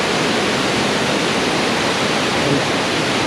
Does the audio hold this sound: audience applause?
no